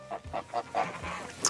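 Geese honking on a free-range farm, a run of repeated nasal honks in quick succession, fairly close and loud, with several birds calling over one another and no talk.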